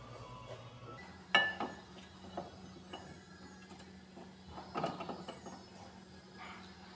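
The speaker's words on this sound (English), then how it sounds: "we'll just bolt it up about 44 foot-pounds" A torque wrench tightening brake caliper bolts on a 2009 Hyundai Santa Fe, faint metallic clicks and clinks with a sharper click early on and another cluster later, over a low background hum.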